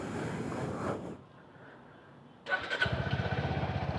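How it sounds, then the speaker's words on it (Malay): A Suzuki Gixxer 250 motorcycle engine runs briefly, cuts to quiet, then is started again and settles into a rapid, throbbing idle close by. "Kita start motor."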